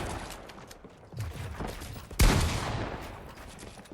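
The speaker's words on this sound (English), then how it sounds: "Another shot coming in." Gunfire in a Fortnite-style video game boxfight during a tournament final, a few scattered shots and then one sharp loud blast midway, followed by a lingering echo.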